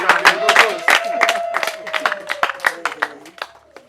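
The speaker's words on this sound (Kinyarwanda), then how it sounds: "Bongera amashyi menshi cyane rwose." An audience at a Rwandan comedy show claps in quick uneven bursts, loud and close, with a voice speaking over the applause as it fades out.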